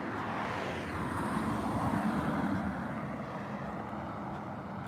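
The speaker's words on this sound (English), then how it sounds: "And I hear cars coming up right now." Road traffic on a street, with a broad steady rumble of passing cars swelling slightly mid-way and easing off, no voices.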